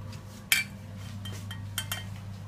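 Metal clinks and light clatter of tea being poured from one metal pot into another, done the Saharan nomad way: one sharp clink near the start, a few softer knocks later, over a steady low hum.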